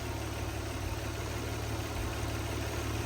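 A Nissan R34 Skyline engine runs steadily at idle after its clutch fan has been removed for an electric fan setup, giving a continuous close rumble with exhaust and intake noise and no talk.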